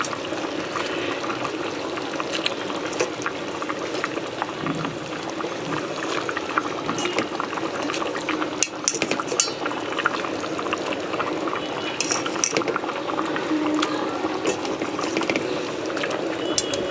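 Fried fish pieces going into a boiling lentil curry of matar dal, a steady bubbling simmer with liquid sounds that runs throughout at moderate level, brief soft clatters on top.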